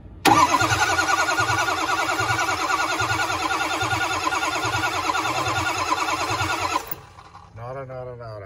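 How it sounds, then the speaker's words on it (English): A 6.0 engine with a suspected lifter failure and no oil pressure cranks and catches, then runs loud and close with a steady rhythmic drumming in the intake for several seconds before cutting off, followed by a brief voice. "I do hear a drumming in the intake"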